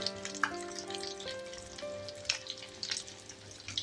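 Keema balls fry gently in a pan over a low flame, giving a soft, continuous sizzle with a few louder crackles and stirring sounds.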